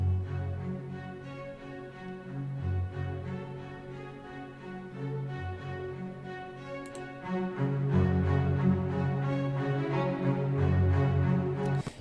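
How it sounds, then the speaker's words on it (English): Normal staccato strings from the Albion 2 Loegria library play short, punchy detached notes in a brisk repeating pattern, fairly close and growing louder toward the end, with no talking. "you can hear a staccato is very kind of aggressive just by nature"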